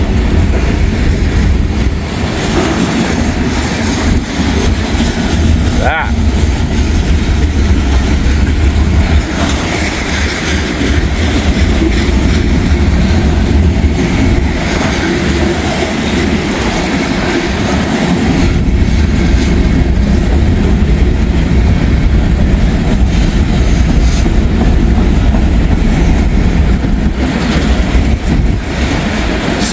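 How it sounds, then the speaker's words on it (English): A freight train of empty continuous welded rail cars rolls past on farm-country track, a loud, steady roar with constant rumbling and clickety-clack from the wheels throughout. "Some empty continuous welded rail cars coming up."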